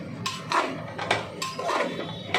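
A utensil clinks and scrapes against a cooking pot as chicken is stirred in a home kitchen, several separate metallic knocks spaced unevenly over a couple of seconds, close and fairly quiet.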